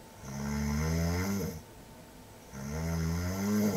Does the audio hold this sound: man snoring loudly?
yes